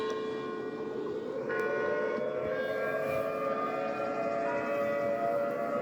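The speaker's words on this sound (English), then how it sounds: "sirens are starting to going up in New York City" Air raid sirens wail steadily across New York City, their layered tones holding long and sustained, sounding distant and echoing with no voices.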